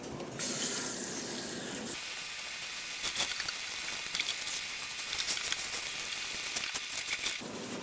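Tap water runs into a sink while tie-dyed shirts are rinsed, making a steady close splashing hiss that starts abruptly and continues with small irregular splashes.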